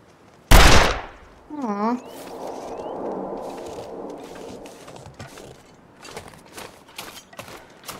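A single loud gunshot at a rabbit in the survival video game The Long Dark, sharp and close. A lingering rumble follows, then a voice talks.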